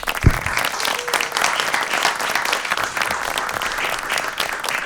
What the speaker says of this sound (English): Can we have another round of applause for Arturo?